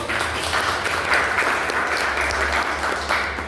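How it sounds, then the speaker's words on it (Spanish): Audience applause for a group during a talk on the legal framework of problematic substance use, a steady, dense clapping that fills the whole stretch at an even, fairly loud level, with no voices on top. "un aplauso para el grupo"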